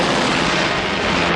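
Dense, sustained gunfire and explosive rumble from a 1986 animated movie, loud and continuous throughout.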